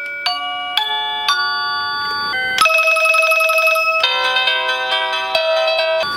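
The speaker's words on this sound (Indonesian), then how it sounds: "sama dengan bel rumah pada umumnya. Di sini bisa pengaturan ringtone-nya." An electronic doorbell plays a series of bright chime melodies, each tune switching to a different ringtone, clear and close with no talking.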